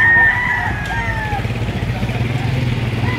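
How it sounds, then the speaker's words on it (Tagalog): A rooster crows over clucking chickens at a poultry market in Padre Garcia, Batangas, with other crows further off and a low engine rumble in the background. "Ayan marami pa rin manok dito."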